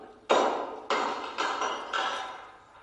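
A big hammer strikes a sealed crucible four times at a steady pace, each blow a moderately loud crack with a short ringing tail, fading slightly over the series.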